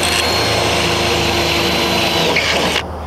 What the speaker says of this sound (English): Now I'm drilling the holes to mount it to the post.